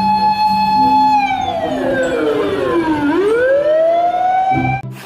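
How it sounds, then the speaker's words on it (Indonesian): A toy fire truck siren wails loudly and steadily up close, its tone sliding down and then climbing back up, with no talking over it. "Yang ini ada mobil damkar."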